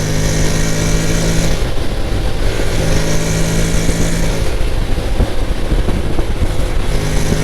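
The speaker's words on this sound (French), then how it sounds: "c'est vraiment une moto déguisée en scooter" Continuous loud engine drone of a 2025 Honda Forza 750 maxi scooter under way, steady with slight shifts in pitch, plus wind rush throughout.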